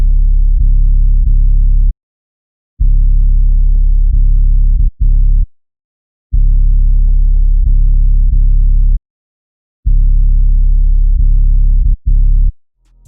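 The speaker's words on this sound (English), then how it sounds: "cutting up the 808 so it's more like a normal pattern" Chopped 808 bass in an FL Studio beat plays as loud, deep booming sub notes in a rhythmic pattern, with short phrases broken by sudden silent gaps.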